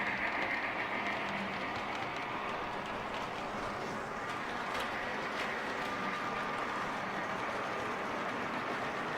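A Polar Express model train runs along layout track with a steady, continuous rumble and light mechanical clatter, close by and unbroken throughout.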